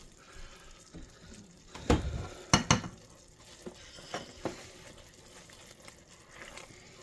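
Chicken pieces sizzle and bubble in a hot pan, with a few sharp clatters and stirring scrapes standing out against the steady crackle.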